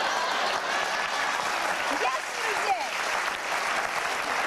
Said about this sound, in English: How about a little applause?